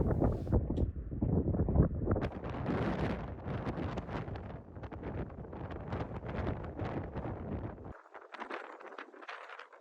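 Strong wind buffets an exposed mountain summit on a Presidential Traverse, a loud, continuous roar battering the microphone that eases slightly near the end.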